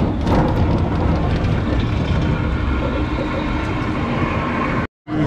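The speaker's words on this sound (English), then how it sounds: "Spooky ghost train!" A ghost train ride at an amusement park in Tokyo that opened in 1853 rumbles along loudly and continuously, with a dense rolling clatter and faint squeals before it cuts out abruptly near the end.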